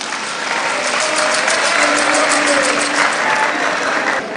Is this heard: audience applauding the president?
yes